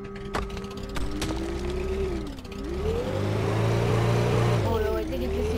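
A damaged Toyota truck in the Brick Rigs video game driving uphill, its engine droning and revving with pitch sweeping up and down, loud and close, with a few sharp knocks early on and talk layered over it.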